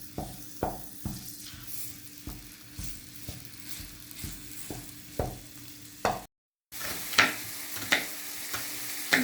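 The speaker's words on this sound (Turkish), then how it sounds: "Şimdi kıymamızı kavurmaya başlıyoruz." Ground beef or lamb mince sizzles and fries in a pan for içli köfte filling, with repeated stirring scrapes and clinks at a steady rhythm; a brief gap of silence midway.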